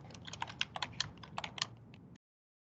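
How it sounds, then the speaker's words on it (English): Fast, close typing on a computer keyboard while entering text into spreadsheet cells: a quick run of crisp keystrokes lasting about two seconds, then silence. "I can go ahead and type anything"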